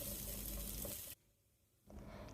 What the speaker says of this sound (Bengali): এখন আমি এতে 1 মগ পানি অ্যাড করে নিচ্ছি।